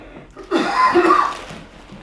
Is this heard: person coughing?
yes